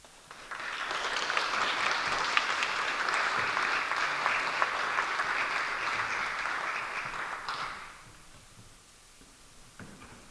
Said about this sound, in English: Thank you for those applause.